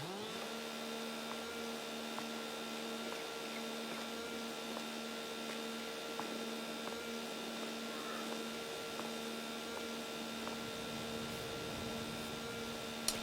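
Chainsaw trimming a felled tree in the farming survival game Holmakra, a steady droning engine whine held at even pitch throughout, fairly quiet and alone.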